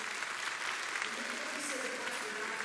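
Faint applause from a congregation rises at a live church service in Baton Rouge, Louisiana, a continuous wash of many hands clapping at a distance while a voice talks over it.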